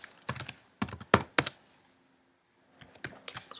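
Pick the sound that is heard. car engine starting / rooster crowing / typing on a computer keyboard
typing on a computer keyboard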